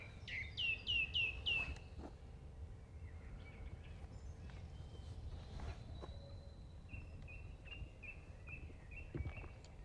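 Wild birds chattering among themselves outdoors, a quick run of bright repeated chirps at first, then scattered calls and a later series of thin whistled notes, fairly faint over a steady insect and cricket hum.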